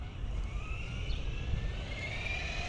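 An Arrma Talion 6S RC car's electric motor whines steadily at half throttle, a close, sustained buzzing drone with a faint rising pitch.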